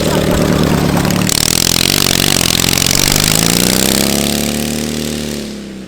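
A 450cc twin-cylinder engine on a homemade push lawn mower revs hard and loud up close, with a sharp throttle rise early on, then a sustained roar whose pitch sweeps as it slowly fades.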